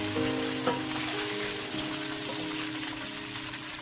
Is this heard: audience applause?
no